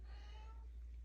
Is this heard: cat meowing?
yes